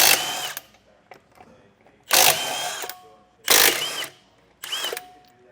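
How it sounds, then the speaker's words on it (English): An impact wrench with a 3/4 socket removes wheel lug nuts on a 2023 East To West Aha trailer, firing in four short, loud, close bursts separated by brief pauses. "we're going to start by taking a 3/4 socket and removing our wheels"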